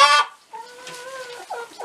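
Hens clucking at close range in Saint-Mamert, kept as singing hens: a loud burst of clucking opens, followed by softer drawn-out calls and short clucks, with no talk.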